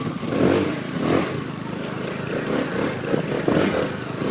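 A motorcycle engine rumbles and revs in uneven surges, fairly close and steady throughout, with no clear voices over it.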